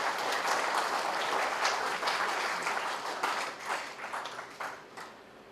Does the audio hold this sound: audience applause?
yes